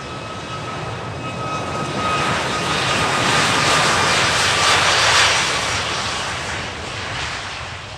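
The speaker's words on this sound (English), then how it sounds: "737 MAX 10 first up." A Boeing 737 MAX 10 flies a display pass at the Farnborough airshow, its jet engines roaring loudly in a broad, swelling rush that peaks midway and then slowly fades.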